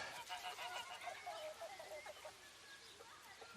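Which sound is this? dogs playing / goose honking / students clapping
goose honking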